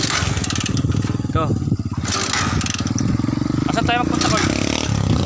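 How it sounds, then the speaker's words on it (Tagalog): A motorcycle engine runs steadily and loudly up close, a continuous throbbing chug throughout while people talk over it. "Ayun na umandar na namin guys, ng motor"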